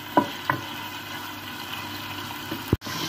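Pieces of meat frying in a pan as they brown, a soft steady sizzle with a few louder stirring scrapes and a sharp clatter near the end.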